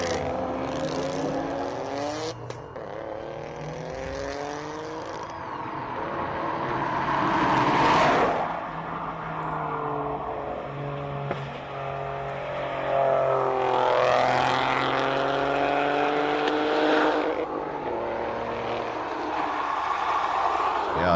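A three-cylinder race car engine on a hillclimb course, its rising and falling harmonic tones climbing through gears at close to medium range, with commentary speech running over it throughout.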